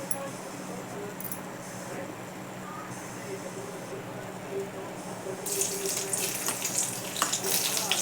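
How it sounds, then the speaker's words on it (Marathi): Garlic dropped into heated oil for a Maharashtrian wild kurdu leafy greens dish, a faint steady sizzle that swells into louder crackling spitting toward the end. "चला तर तेल तापलं, लसूण टाकते."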